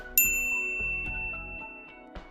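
A bright notification ding rings out once and leaves a shimmering bell tone decaying over about two seconds, with a faint second tap near the end.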